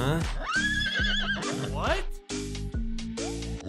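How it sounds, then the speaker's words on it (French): A horse whinnies with rising and falling calls over a busy cartoon soundtrack, mixed with music and people talking loudly throughout. "il est venu à ta rencontre sur un cheval"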